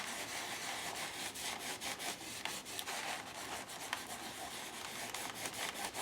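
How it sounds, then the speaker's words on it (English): Wax on the back cover of an altered book is buffed with a soft cloth, giving a close, continuous rubbing and brushing sound with small rhythmic swishes and no speech. "I'm going in with a soft cloth to buff it."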